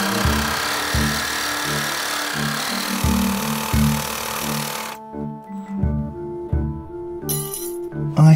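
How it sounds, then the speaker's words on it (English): A hand saw cutting a steel rear suspension arm bolt on a Land Rover Discovery 3 rasps back and forth in a steady rhythm of strokes, close and fairly loud, with a short pause midway before the sawing resumes. "Without the bracket, you can get your saw in to cut the bolt."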